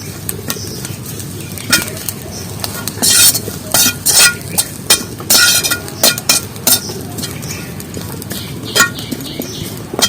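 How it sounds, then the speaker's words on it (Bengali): Leaves frying in a pan are stirred often with a small metal spoon, giving irregular sharp clinks and scrapes against the pan over a steady low sizzle, close and fairly loud. "আর একটু বেশি জাল বেড়ে গেছে তার জন্য আমি ঘন ঘন এটা নাড়িয়ে নিচ্ছি"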